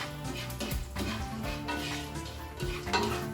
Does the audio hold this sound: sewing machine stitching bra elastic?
no